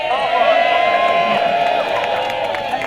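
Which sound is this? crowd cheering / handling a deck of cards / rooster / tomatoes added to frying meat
crowd cheering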